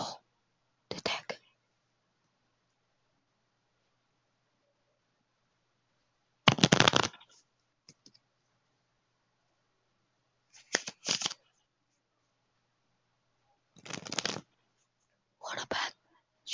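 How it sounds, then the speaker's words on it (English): Several short bursts of cards riffling and shuffling, separated by quiet pauses, close and crisp with soft whispery texture. "Shuffle the deck."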